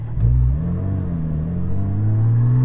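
A Porsche 718 GT4 with a Soul Performance over-axle and rear-section exhaust accelerates close by, its engine note rising steadily in a smooth, continuous rev.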